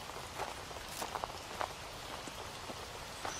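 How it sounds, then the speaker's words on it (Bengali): Light, steady rain patters in a cartoon scene, soft drops ticking over a faint wash of sound with a few slightly louder taps, no voices. "আকাশ থেকে ঝিরি ঝিরি বৃষ্টি পড়ছে।"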